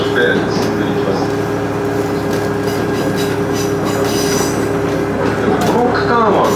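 A JR Tadami Line charter train heads toward the Aizu–Echigo border, with a loud continuous rumble of wheels on rails and faint squeals rising near the end.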